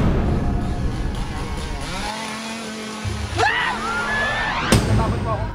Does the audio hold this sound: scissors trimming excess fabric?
no